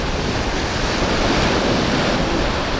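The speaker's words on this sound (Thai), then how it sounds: "เสียงคลื่นแบบซูซ่ามากซูซ่ามาก" Ocean waves washing onto the beach at Hua Hin, a steady broadband roar of surf with wind, loud and continuous with no voices.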